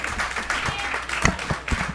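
Audience applause breaks out at a school board meeting, scattered claps rising and falling over two seconds in a large room, moderately loud with some background murmur.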